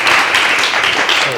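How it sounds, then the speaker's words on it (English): A room full of people applauds speakers at a disability discussion event, broadband clapping wash sustained steadily and fairly loud from start to finish. "if we can give a round of applause to all our speakers"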